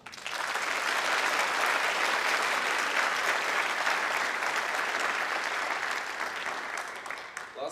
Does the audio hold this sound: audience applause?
yes